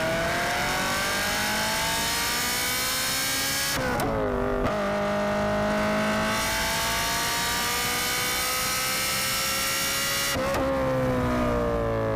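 A Ferrari F355 engine screams at high revs during a powerslide, rising pitch, brief drops at gear changes, with tire noise, loud and continuous from inside the car.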